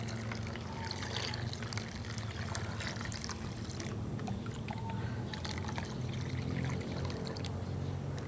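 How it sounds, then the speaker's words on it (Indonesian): Brown sugar solution and leftover rice-washing water are poured into a container for a soil-restoring ferment, a steady close splashing and trickling that runs throughout without talk. "kita masukkan larutan gula merah dan air cucian beras yang tersisa kita masukkan semua"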